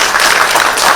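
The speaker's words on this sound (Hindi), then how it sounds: "आप सब के लिए बहुत से जोरदार तालियां हम सब का तरफ से" Brief burst of dense, loud applause from an audience at a World Disability Day event, filling the moment with steady clapping.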